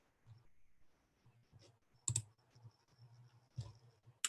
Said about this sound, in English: I hope I type my passwords the same this time.